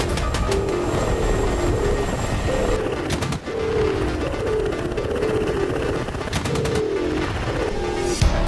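Bursts of ground gunfire in DCS World rattle in rapid clusters beneath the constant loud thrum of a Mi-24P Hind helicopter's rotors, with several volleys spread across the stretch.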